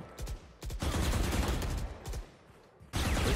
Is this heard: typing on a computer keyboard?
no